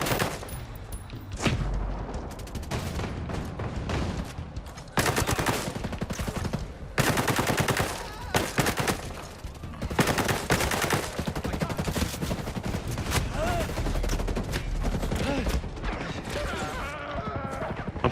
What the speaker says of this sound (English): Oh, there's a bloody minigun up there.